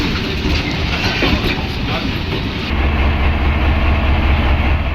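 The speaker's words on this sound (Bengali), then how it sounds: "এরপরই বাংলাদেশের উদ্দেশ্যে যাত্রা শুরু করে পণ্যবাহী ট্রেনটি" A heavy freight train departing for Bangladesh rumbles loudly nearby with a steady low engine drone and rhythmic rail clatter that grows heavier as it gets moving.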